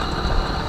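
An MBK 51 moped engine runs steadily at idle, a low, even mechanical hum with faint vibration and no other sounds over it.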